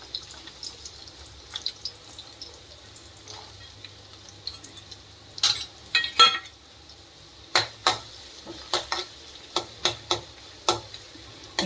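Red chillies and chopped onions sizzle in oil for a tempering, a soft steady hiss punctuated by a run of sharp clinks and scrapes as a spoon stirs the pan, no voices.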